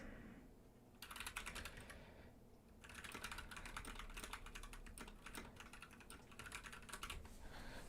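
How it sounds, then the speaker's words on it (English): Rapid clattering keystrokes on a computer keyboard come in bursts, with a short pause between them, close and fairly loud. "Sorry if that was loud typing"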